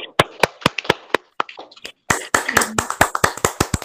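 Scattered hand claps from a small group in a school classroom, sparse and uneven at first, then thickening into a quicker patter of overlapping claps close by.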